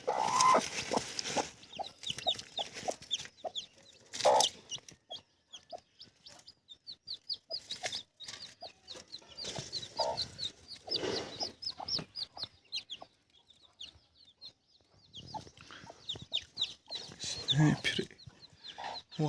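Chickens on a village poultry farm cluck repeatedly in short bursts, with high chirping from chicks. The sound is close and moderately loud, with scattered rustling and no talk.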